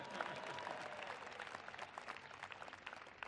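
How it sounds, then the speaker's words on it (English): Soft, distant audience applause during a speech on a presidential state visit to the United States: an even, dense crackle of clapping that holds at a steady, low level throughout. "That's worth applause, too."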